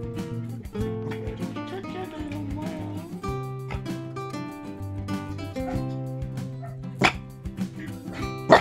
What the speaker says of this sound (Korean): 옆집에서 강아지 소리 들리니까 나가.